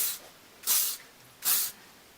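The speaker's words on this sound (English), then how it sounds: "use a bit of the L'Oreal Elnet Satin hairspray. This is the Very Volume Extra Strength with Pro Keratin, but any hairspray will do, and just give it a light spray." L'Oreal Elnet Satin Very Volume Extra Strength hairspray sprayed onto hair in three short hissing bursts, a faint one followed by two louder, close puffs with brief quiet gaps.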